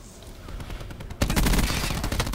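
Rapid automatic gunfire in the first-person shooter Black Ops 4, on the Hacienda map, starting about halfway through as a dense, loud burst of repeated shots over quieter background game noise.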